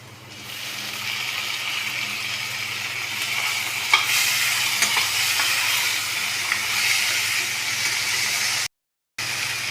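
Tadka for Punjabi moong masoor dal frying on a gas flame, a steady loud sizzle and hiss that carries on for several seconds, then cuts out briefly near the end.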